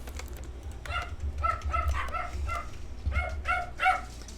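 Several dogs bark in repeated bursts of sharp barks and yips, fairly close, over a low steady background hum.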